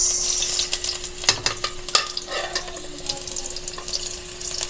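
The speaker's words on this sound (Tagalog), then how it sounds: "mainit na po yung ating mantika. So, lagay na po natin yung ating sibuyas." Onions dropped into hot oil for pork binagoongan: a loud, close, steady sizzle with a few sharp stirring clicks over a faint constant hum, no talking.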